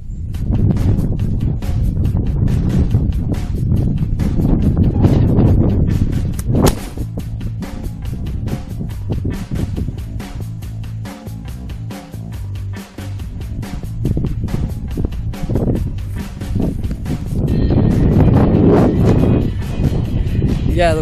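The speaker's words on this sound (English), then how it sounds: "Yeah, the wind's getting up." Steady, strong wind roaring across a golf course in Herefordshire, a constant buffeting rush on the microphone throughout with brief gusting swells.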